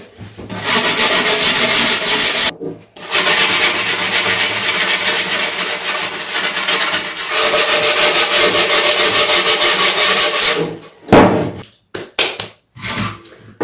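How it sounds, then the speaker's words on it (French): A strip of skateboard grip tape rasps hard against the edges of a wooden skate deck, long loud continuous scrubbing strokes with brief pauses, ending in a few short irregular scrapes. "pouvoir s'en servir comme élément de ponçage pour pouvoir venir affiner un petit peu le pourtour de votre board"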